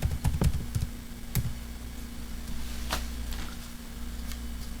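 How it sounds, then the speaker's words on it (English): Typing on a computer keyboard while entering a VASPKIT command, a quick run of close clicking keystrokes near the start, then scattered single taps over a steady low electrical hum. "So now you type VASPKIT."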